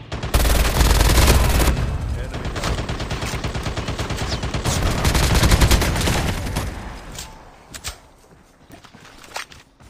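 Gunfire in a Call of Duty Mobile battle royale match: rapid automatic bursts and dense volleys up close, fading to scattered shots and footsteps toward the end, with faint voices underneath.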